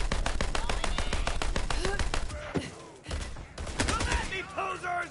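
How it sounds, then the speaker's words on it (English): Rapid automatic gunfire from a Borderlands 3 firefight on PS4, loud, dense bursts of repeated shots that break off briefly near the middle and then resume, with in-game voices heard under the shooting. "Stop shooting at me."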